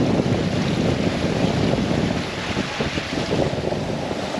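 Steady 17-knot wind rushes and buffets over open water on a sailing boat making 8 knots, with a constant broadband roar and faint sloshing of waves, no voices.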